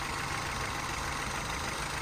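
A rusty, damaged car's engine idling: a steady, dense broadband rumble that stays constant and close throughout, with no talk.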